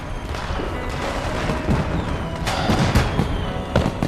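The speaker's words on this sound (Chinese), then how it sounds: "你看这烟花真漂亮啊" Fireworks bursting in a night-sky display, a dense run of crackling pops and dull booms layered over a continuous roar, fairly loud and close, with no talking.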